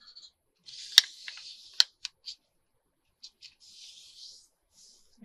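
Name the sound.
scissors trimming folded fabric pockets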